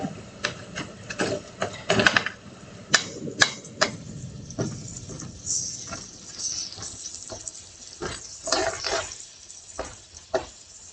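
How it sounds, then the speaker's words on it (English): Garlic stirred in a hot pan while making Mexican rice: a utensil repeatedly taps and scrapes against the pan in irregular clicks and clatters, with a faint sizzle underneath. "And just going to stir that around just a little bit to let that garlic get kind"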